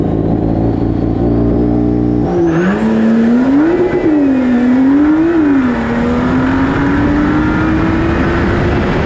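A drag race car drives slowly back up the strip to reset its tyre pressure monitor, its loud engine droning steadily and close, the pitch shifting with small rises and dips before settling into a gradual climb.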